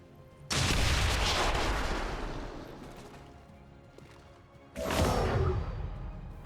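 A Claymore charge blows up in XCOM 2: War of the Chosen, a sudden loud close blast with a long decaying roar, then a second sharp burst a few seconds later, with no talking.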